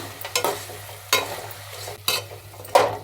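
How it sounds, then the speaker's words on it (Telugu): Cauliflower gobi manchurian being stirred in a pan, with a few distinct scraping stirs spaced about a second apart over a low steady hum, close and fairly quiet, no voices. "ఒకసారి బాగా కలుపుకున్నాము"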